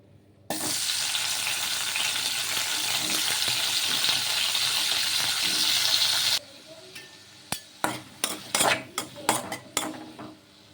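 Chopped tomato, onion and green chilli drop into hot oil with a sudden loud sizzle that holds for several seconds, then the frying quiets and a spoon clatters and scrapes against the pan in quick strokes.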